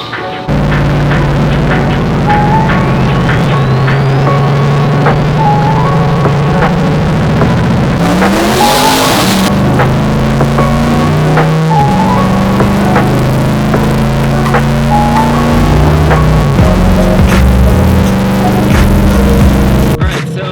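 Twin-turbo Corvette C8 engine pulls hard through the gears under full acceleration, a loud continuous drone stepping up with each shift, with a whooshing burst near the middle.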